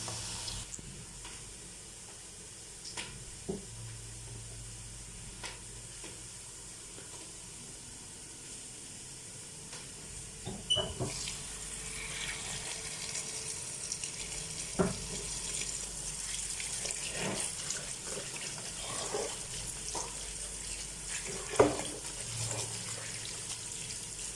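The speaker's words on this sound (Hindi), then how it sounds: "तब तक हम पालक को धो लेते हैं" Spinach leaves are washed under a running kitchen tap: a steady stream of water with irregular splashes and knocks as the leaves are handled, fairly quiet and continuous.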